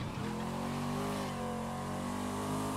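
Cadillac Coupe Deville taxi (Marco's Cab) in The Crew 2 video game accelerating, a steady mid-pitched engine drone with rising harmonics, close and continuous with no talking.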